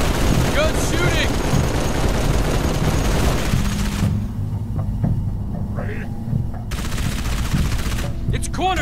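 Gunfire in Halo 3: ODST, with rapid, dense bursts of shots over constant combat noise and a voice calling out partway through, loud and busy.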